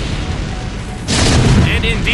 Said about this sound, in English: Siege tanks on either side